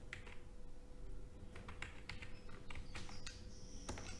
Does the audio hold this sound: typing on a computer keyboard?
yes